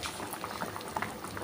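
Dal bubbling in a pot on the stove, with sour outenga (elephant apple) pieces added, giving a steady, soft simmering burble with scattered small pops, fairly faint and without voices.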